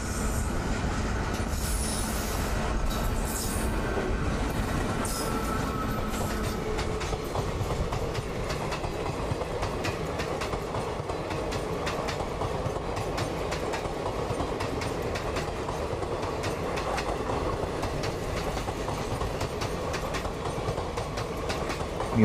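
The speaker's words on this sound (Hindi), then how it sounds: "ये लोकोमोटिव लगता है पहली दफ़ा देखा है।" An Indian Railways locomotive hauls a train past, a loud, steady rumble of wagons with clickety-clack wheel beats and metallic wheel squeal running throughout, no voices.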